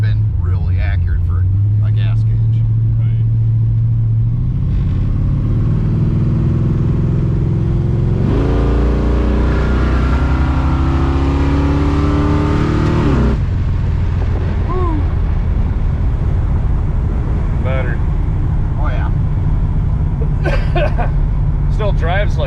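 A 1973 Dodge Dart crew cab engine roars under hard acceleration from inside the cab, climbing loudly through a long pull and easing off, while people talk over it.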